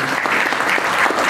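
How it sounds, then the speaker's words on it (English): Audience applause for a panel at a law enforcement training forum, a dense, steady burst of many hands clapping that holds at full level through the short stretch, with no voices over it. "can we give our panel a round of applause for this?"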